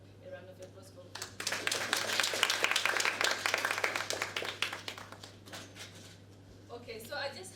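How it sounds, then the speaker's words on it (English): An audience at a book fair creative writing session breaks into a round of applause, swelling from scattered claps into dense clapping and then tapering off, with a faint hum underneath and talk before and after. "you have to give yourself a round of applause for it"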